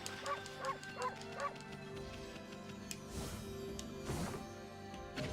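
Wolf in the video game Okami gives four quick yipping barks in an even rhythm, then a couple of softer whimpering yelps over a steady game music bed.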